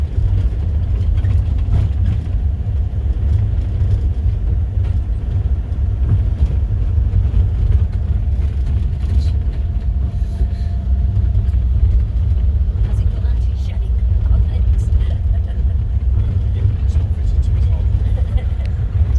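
Car engine rumbling steadily as a vehicle drives along a hilly, partly washed-out dirt road toward a forest, a loud continuous low drone with constant road noise throughout, and voices talking over it.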